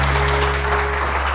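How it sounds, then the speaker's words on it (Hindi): Studio audience applause for Zara on a TV morning show, a brief dense burst of clapping over a steady low hum. "ज़ारा के लिए बहुत सारी तालियां"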